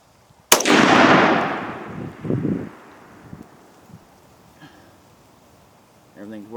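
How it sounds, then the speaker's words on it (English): A single loud shot from a DPMS Sportical .308 rifle fired outdoors, a sharp crack followed by a long rolling echo that fades over a couple of seconds, then light wind and faint handling noises. "Go for the second shot."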